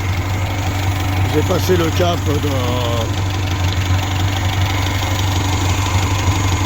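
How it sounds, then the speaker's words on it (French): The ethanol-fuelled XN1T engine of a Peugeot J5 idles cold just after starting, a steady low drone with a faint knock, while someone talks briefly over it near the start. "Bon voilà, le moteur a démarré."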